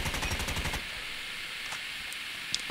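A burst of rapid automatic gunfire from an AK-47 Kuromaku in a video game, a quick rattling run of shots that cuts off after under a second, leaving a faint hiss and a small click.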